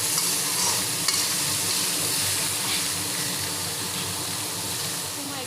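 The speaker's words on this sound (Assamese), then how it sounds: "মাংসখিনি ঢালি দিম অকণমান ফ্ৰাই হোৱালৈকে ভাজিছোঁ" Pork sizzles in a little oil in a pan over low flame, a continuous close frying hiss with faint stirring scrapes, Assamese-style pork cooking, no talk.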